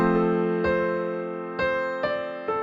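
Piano playing sustained low chords while a melody steps along in even notes above, a few clear attacks over ringing harmony, close and moderately loud.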